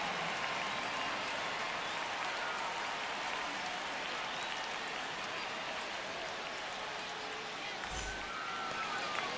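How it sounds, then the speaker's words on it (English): A stadium crowd cheers in MLB The Show 25 at a New York Mets home game, a broad, continuous roar of voices and applause that stays steady throughout, with a brief low thump near the end. "The crowd is amped up, ready to get this season underway"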